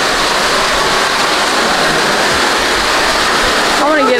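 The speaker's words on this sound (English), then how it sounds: "I want to get under this waterfall." A waterfall roars in a steady, dense rush of water close by, heard outdoors on a paddle-boating outing in Houston, with a brief voice breaking in at the very end.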